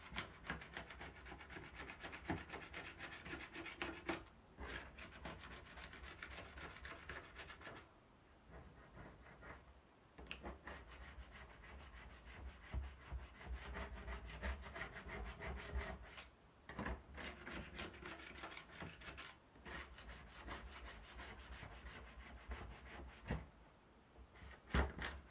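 A Cricut cutting mat being scraped clean, giving steady rasping, rubbing strokes that run almost continuously at close range with only a few short pauses, and no talking.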